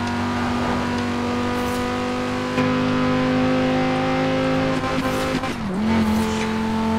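The 2058 Quadra Turbo R V-Tech in Forza Horizon 4 holds a steady, high engine whine at speed on the highway, pitch rising and then dipping briefly as it shifts before climbing again.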